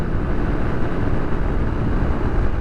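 Honda XR150L dual sport motorcycle held at wide open throttle, a loud, steady engine roar mixed with heavy wind rush, unbroken and close throughout.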